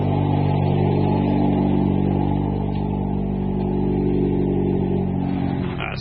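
Engine of a 2015 Chevy Sonic car with a single-mass flywheel, heard in a shop, holding a loud, steady rev for several seconds before easing off at the end.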